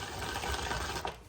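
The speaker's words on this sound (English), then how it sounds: "I'm gonna grind up some peanuts." Peanuts being ground in a kitchen for a cake-mix dessert, a steady, close mechanical whirring and rattling that runs without pause for just over a second.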